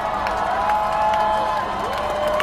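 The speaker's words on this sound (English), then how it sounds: "I'm not entirely sure who they're cheering for." Protesters at a downtown "Not my president" march cheer and whoop together, a dense, steady roar of many voices that holds for the whole stretch, with scattered claps and mingled chatter in the mix.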